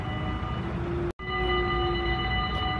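A train passing on the line at Linne, the Netherlands, a loud steady rumble with sustained tonal whine that drops out for a moment and returns, continuing alone without speech.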